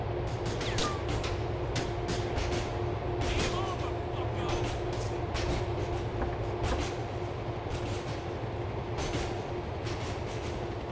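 A train in Grand Theft Auto IV keeps up a continuous rumbling clatter with rhythmic clacks throughout, while voices speak over it.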